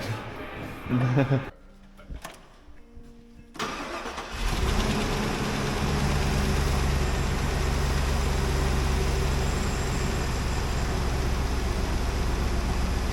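A GM 3500 truck's LT V8 engine cranks and fires after a few seconds of quieter talk, then settles into a steady, loud, close idle with a deep low rumble that holds to the end.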